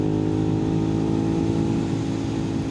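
A Suzuki SV650 motorcycle rides along with its engine droning at a steady, loud, even pitch, heard close up with a constant rumble and no speech.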